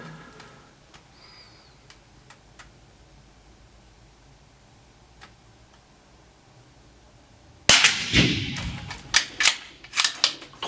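Suppressed custom rifle fired at a shooting range: after a long near-silent stretch, a sudden loud crack is followed by several sharp, closely spaced reports and echoing clatter.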